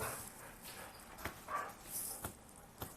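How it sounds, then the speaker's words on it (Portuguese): A couple of agitated small pet dogs give a few faint, short barks and yips, scattered unevenly and heard at a distance over quiet room noise. "As minhas cachorrinhas estão um pouquinho agitadas aqui"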